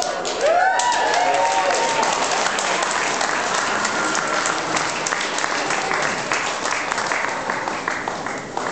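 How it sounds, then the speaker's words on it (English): Guests at an evening party celebration give a long, loud round of applause, a dense crowd clapping continuously at close range, with a few brief voices and a whistle-like tone near the start. "Ladies and gentlemen, give a big round of applause for all our special toast tonight."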